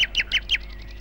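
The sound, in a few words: sparrow chirping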